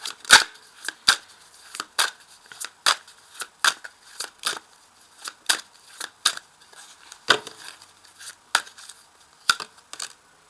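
Tarot cards drawn and laid down on a table, a long series of crisp, sharp snaps and flicks in an irregular rhythm, close and fairly loud, with no talking.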